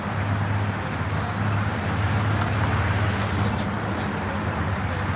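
Steady street traffic, a dense roar of passing vehicles with a low engine rumble running throughout, fairly loud and continuous.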